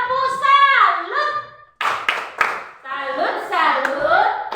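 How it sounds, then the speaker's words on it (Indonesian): Children's voices chant a clapping routine in a classroom, rhythmic hand claps mixed with sung call-and-response, close and lively, with a short pause midway before the chanting and clapping resume. "Tepuk salut."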